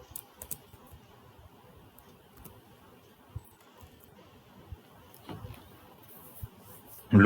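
Light clicks of letter keys being typed on a computer keyboard, quiet and irregular, with a few sharper key taps scattered across the stretch and a louder burst at the very end.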